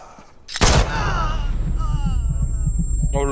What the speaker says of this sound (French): je vais faire péter la porte